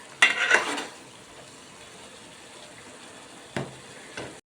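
A spoon stirs Andhra chicken curry in a pan, the meat cooked through with oil risen to the top. A loud burst of scraping and sizzling comes first, then two brief knocks follow over a quiet background.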